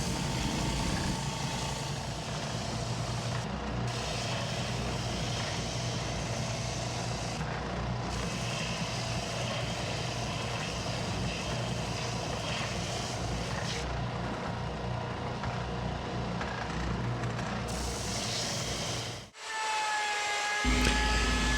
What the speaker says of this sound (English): Here you can see me using a router sled that I made myself